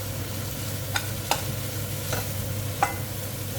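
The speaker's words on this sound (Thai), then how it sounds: "เราก็ผัด" Grilled catfish chili paste being stir-fried in a pan, a soft continuous sizzle punctuated by four distinct scrapes of the spatula against the pan, fairly quiet, with no talking.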